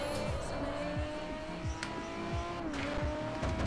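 A race car in Need for Speed: The Run on the Wii revs hard as its tires squeal through repeated skids, the engine pitch sweeping up and down continuously, loud and close with no talk.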